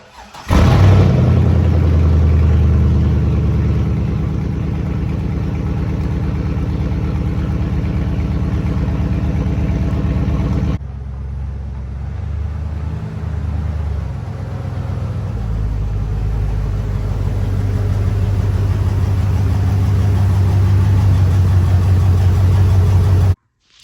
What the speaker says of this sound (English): we'll start with a little cold start and turn the truck around and get it pulled in here